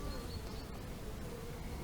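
Honeybees buzz at a beehive entrance as foragers fly out, a dense, continuous drone of many insects close by with no talking.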